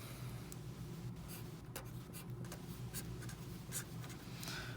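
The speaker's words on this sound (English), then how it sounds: "I'm going to draw some pictures here" A pen scratches and taps across a surface in short, irregular strokes while drawing, close and quiet over a low steady hum.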